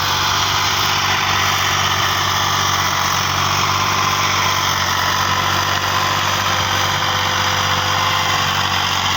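A tractor engine at a sugal mela tractor fair idles and runs steadily and loudly throughout, a continuous close mechanical drone with a vibrating hum and no talk.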